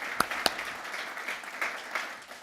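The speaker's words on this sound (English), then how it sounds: "you guys get a round of applause." Applause from a symposium audience honoring elders and volunteers at an event on ending loneliness in Chicago, a fairly quiet, thin round of clapping with a couple of sharper claps standing out near the start.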